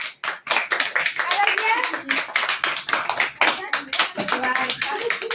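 Several people clap together at a child's birthday celebration, a steady close run of hand claps throughout with voices talking over it.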